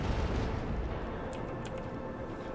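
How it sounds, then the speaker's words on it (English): Starship macro cannons fire in the video game Rogue Trader, a dense rumbling barrage of booms with crackling bursts layered over a constant roar. "Macro cannons, fully!"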